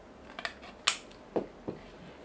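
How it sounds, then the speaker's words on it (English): Scissors snip through a plastic credit card in a handful of sharp, close cuts spaced unevenly, each a crisp crunching snap over a low background hiss. "Cut the card up."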